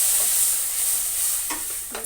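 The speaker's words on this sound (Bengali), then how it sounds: "একটু লঙ্কার গুঁড়ো দিয়ে দিলাম দিয়ে ভালো করে একটু জল দিলাম কষানোর জন্য" Chilli powder, turmeric and spices cook with a splash of water in a pan for a soybean and potato curry, giving a steady close sizzle with a few soft scraping stirs near the end.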